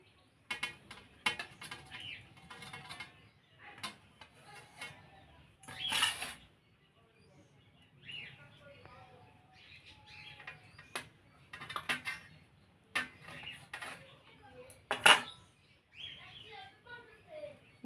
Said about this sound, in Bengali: এবার আমি একটা ছুরি দিয়ে কেটে নেব।